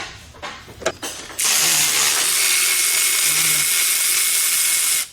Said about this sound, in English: now we want to take off our 13mm bolts